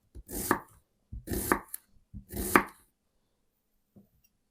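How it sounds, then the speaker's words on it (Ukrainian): Three separate passes of a knife chopping onion into quarter rings on a board, each a quick run of crisp cuts, close and clear with short pauses between. "А цибулю нарізаю з такими четвертинками, кільцями."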